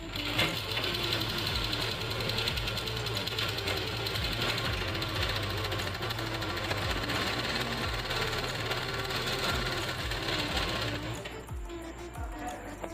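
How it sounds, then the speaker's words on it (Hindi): A sewing machine runs steadily for about eleven seconds, stitching a piece of a belted blouse with a loud, continuous mechanical whir and rapid needle rhythm, then slows and stops near the end. "इस पर लगेगी एक पैर की सिलाई, इस तरीके से बैठा लेंगे हम इसे।"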